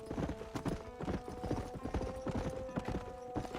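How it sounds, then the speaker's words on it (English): A wild horse's hooves in the Red Dead Redemption video game on Xbox 360, a quick steady clip-clop of galloping footfalls, close and fairly loud with a faint tonal hum underneath. "Um cavalo selvagem."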